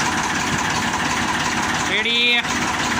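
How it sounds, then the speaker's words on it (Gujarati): A tractor engine running after repair at home, a loud steady close-up idle drone throughout, with a brief higher whine rising over it near the end. "આજ જો આપણા ટ્રેક્ટરનો અવાજ કેવો મસ્ત આવવા માંડ્યો છે"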